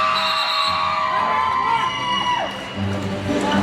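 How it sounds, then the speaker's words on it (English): Crowd cheering for Happy Valley at a roller derby game, a steady roar of voices with high whoops and shouting that holds through the whole stretch, dipping slightly near the end. "Who's cheering for Happy Valley? I am."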